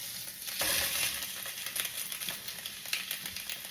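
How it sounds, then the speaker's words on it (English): Sous vide pork chops sear in a hot pan with a soft, fairly quiet sizzle, a brief louder burst at first, then crackling pops and spatters. "All we need is about a minute on each side to get that nice sear."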